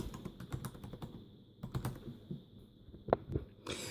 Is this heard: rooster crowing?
no